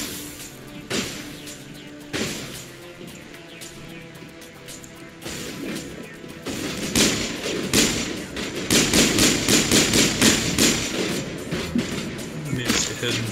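Gunfire from the video game Mass Effect: repeated close shots and impacts, sparse at first, then a dense rapid volley of bursts, with a voice talking over the battle.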